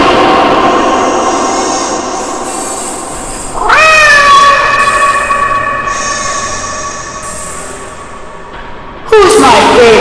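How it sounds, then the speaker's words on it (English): A robotic cat from the video game Nancy Drew: Shadows at the Water's Edge meows in loud, drawn-out electronic tones, one long rising call and a second starting at the end, over a low background hum. "Who's my favorite robotic cat?"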